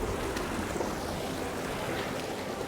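Mill Creek Falls, a remote waterfall in Big Tujunga, rushes in a steady, dense broadband roar heard close up, with no voices over it.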